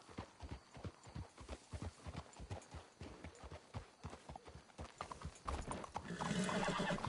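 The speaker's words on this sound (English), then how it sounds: "Let's hitch the horses up ahead." Horses in Red Dead Redemption 2 clip-clop along in a steady trotting rhythm of hoofbeats, with a whinny and a louder rush of movement near the end.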